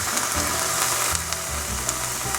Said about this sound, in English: I'm adding some single cream to the broccoli in the pan